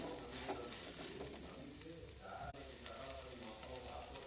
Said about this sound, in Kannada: ಈಗ ಸದ್ಯಕ್ಕೆ ಹಸಿಮೆಣಸು ಒಣಮೆಣಸು ಎರಡೂ ಹಾಕ್ಕೊಂಡು ಚೆನ್ನಾಗಿ ಫ್ರೈ ಮಾಡ್ಕೊಳ್ತಾ ಇದ್ದೀನಿ